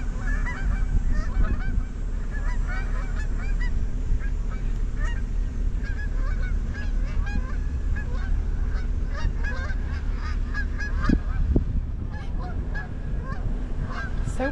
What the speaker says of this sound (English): Oh, look at the geese taking off.